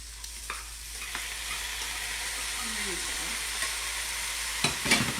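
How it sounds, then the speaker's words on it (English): Lentils sizzle in a very hot pan as tacos are cooked, a steady close frying hiss with a few stirring scrapes and small knocks near the end. "So I think we'll go ahead and add the lentils here. The pan's really hot"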